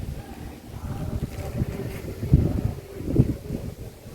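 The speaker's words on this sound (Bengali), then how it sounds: "হাওয়া দিচ্ছে দেখো ভালো হাওয়া দিচ্ছে" Wind gusting across a rooftop, a low rumbling buffet with two stronger surges mid-way, close and fairly soft, with no talking.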